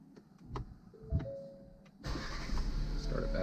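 A 2019 Ford Ecosport restarting, with faint clicks and a short whine before the engine catches at about two seconds and settles into a steady close idle.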